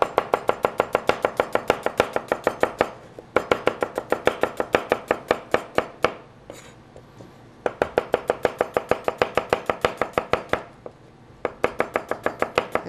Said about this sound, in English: Right now we're going to julienne some onions up with this